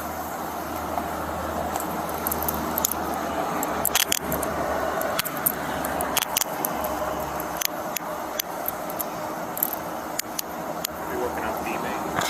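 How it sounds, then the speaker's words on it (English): Handcuffs are clicked on and tightened during a DUI arrest at a roadside, with short metallic clicks and jangles amid constant traffic rumble and nearby talk. "Let me go ahead and get these handcuffs tightened up"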